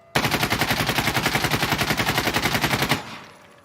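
AKS-74U with no attachments fires in the game Insurgency: Sandstorm, a single sustained full-auto burst of about three seconds with a fast, even rhythm of closely spaced shots, loud and alone, then a short echoing tail.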